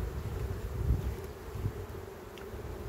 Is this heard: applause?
no